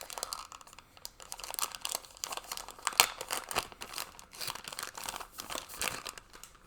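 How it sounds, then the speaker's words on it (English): Plastic packaging around a set of newly bought, still-unopened tally counters crinkles and crunches continuously at close range, in irregular bursts with a few sharper crackles. "Sorry for all the crinkles."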